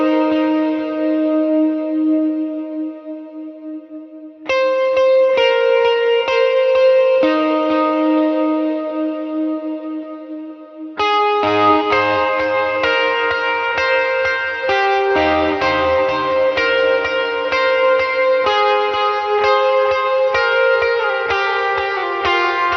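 Electric guitar descending line drenched in echo, reverb, chorus and distortion: ringing sustained notes trail into each other, with two sharp re-attacks and a denser, heavier passage in the second half, loud and close, no talking.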